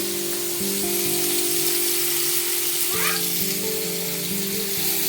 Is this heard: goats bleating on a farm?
no